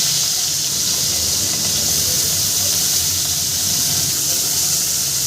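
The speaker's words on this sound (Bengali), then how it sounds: "বাকি মাছটাও আমি সুন্দর করে ভেজে নেব" Chapila fish sizzles as it fries in oil in a kadai, producing a loud, steady, continuous hiss from start to finish with no pauses.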